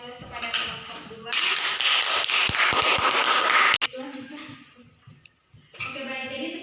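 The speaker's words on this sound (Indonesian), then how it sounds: "Mari kita berikan aplaus kepada kelompok 2." Applause for a presenting group in a classroom microteaching session rises as a dense burst of clapping for about two and a half seconds, with talk before and after it.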